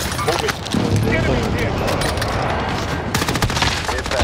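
Rapid bursts of video game gunfire rattle on throughout, dense and loud, with a voice shouting over the shooting.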